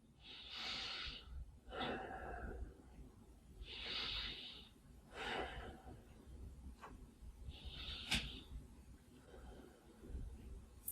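Slow, audible yoga breaths taken during a side stretch, with several rising and falling breathy inhales and exhales at an unhurried pace, close and soft, without talk.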